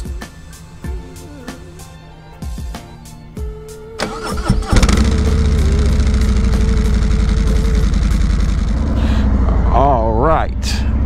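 A Harley-Davidson Road King motorcycle on a riding academy range is started after a few clicks and thumps, then settles into a loud, close, steady idle with a brief throttle blip near the end.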